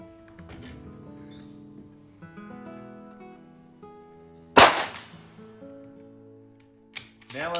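A single sharp, loud gunshot from a Remington XP-100 pistol, with a brief echoing tail, set amid quiet outdoor background with faint sounds before and after.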